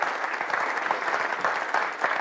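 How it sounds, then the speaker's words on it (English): An audience claps steadily for a performer named Steve at his last gig, a dense, even patter of many hands sustained throughout. "Give him a round of applause"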